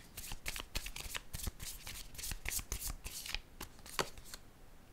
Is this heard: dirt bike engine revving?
no